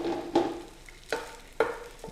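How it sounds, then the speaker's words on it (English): Garlic frying in a pan on the stove, with short bursts of sizzling and stirring scrapes recurring in a loose rhythm, close and fairly loud with no talking. "It's starting to sizzle."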